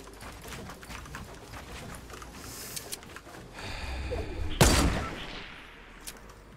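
A burst of gunfire cracks sharply amid a busy Fortnite: Battle Royale soundscape, with scattered shots and rumbling before and after the loudest blast.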